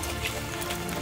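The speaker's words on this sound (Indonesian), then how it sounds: "Full hujan, full angin" Rain and wind on Mount Patuha at about 2434 m: a steady, dense hiss of rainfall pattering on surfaces, continuous and fairly loud with no pauses.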